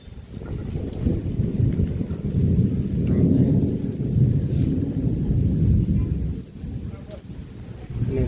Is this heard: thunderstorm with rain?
yes